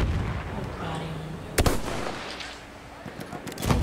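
Gunfire in the video game Battlefield 1 bursts out in a few sharp cracks over low rumbling battle ambience, while a player talks throughout.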